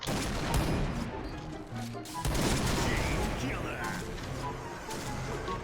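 Video game gunfire rattles almost continuously in dense bursts, loud and close, with excited talk running over the shooting throughout.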